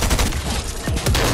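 Rapid gunfire in the video game Fortnite: a dense burst of overlapping shots and sharp cracks fills the whole moment, loud and close, with no talking.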